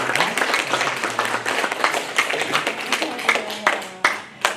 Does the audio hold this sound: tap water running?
no